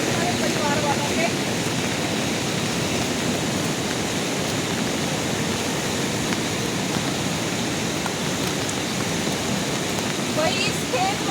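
Rushing water from a river flooded by record rain in Sirmour, Himachal, a dense steady roar that fills the whole stretch, loud and close, with faint talk now and then beneath it.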